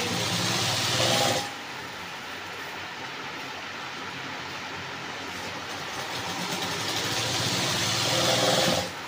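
A sewing machine stitches along the waistband of a party-wear skirt. The motor gives a steady mechanical whir that runs the whole clip. It is louder at the start and end and eases off in the middle, with no talk.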